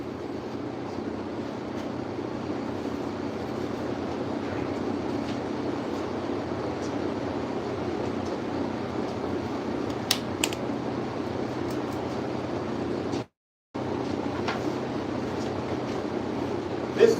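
A DeWalt orbital sander works the edge of a skateboard deck, a continuous even whir that holds for many seconds, cuts out briefly near the end, then resumes.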